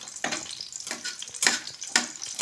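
Chapli kebab frying in a pan, with ghee ladled over the top in small amounts; a close sizzle rises in four bright bursts as each pour hits the hot fat, then settles back to a steady crackle.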